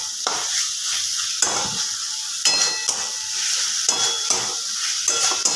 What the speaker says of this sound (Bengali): আর একবার কষিয়ে দিয়ে দেবো আলুটা। একটু নাড়াচাড়া করে নেব।